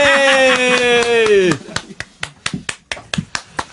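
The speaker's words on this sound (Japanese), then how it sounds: "鳴り止まぬ拍手。" Sparse scattered clapping from a few people in a radio studio follows a sustained musical chord that cuts off; about a dozen separate claps land unevenly, sharp and close, with gaps between them.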